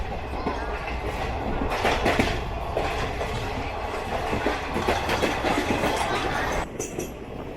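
The Surat–Mumbai Flying Ranee Express rumbles steadily along its tracks with rhythmic clickety-clack of wheels over rail joints, a continuous loud ride noise with brief shifts near the end.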